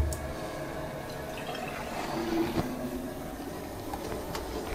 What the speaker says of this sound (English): All that's left to do is run the water and test it.